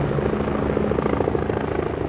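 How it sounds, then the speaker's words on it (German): Helicopter in the military shooter game Squad, on the Gorodok map, its steady rotor chop pulsing close and loud through the whole stretch with no talk over it. "Da geht der Heli da."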